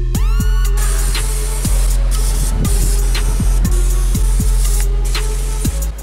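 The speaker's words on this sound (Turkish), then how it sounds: "Şimdi sağa sola bulaşan yağları birazcık balatı spreyle temizleyelim." Brake cleaner sprays continuously from an aerosol can onto oily parts of a Ford Fiesta during maintenance, a loud close hiss that runs without a break under faint clicks.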